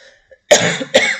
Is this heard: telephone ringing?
no